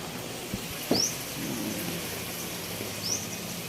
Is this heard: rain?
yes